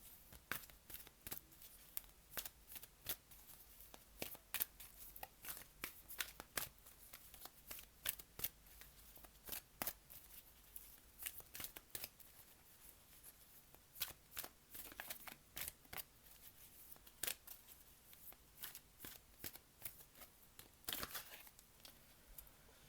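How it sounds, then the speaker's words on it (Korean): Tarot cards are shuffled steadily for over twenty seconds, a soft, close run of rapid riffles and slaps with no talking. "이번 분들에게 우주가 주는 조언의 카드 한 장 뽑아볼게요"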